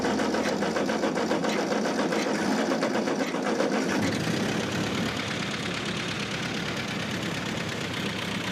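An old Ford 8N tractor's flathead engine runs close by with a loud, fast, steady mechanical clatter, and its pitch shifts partway through as the throttle is nudged.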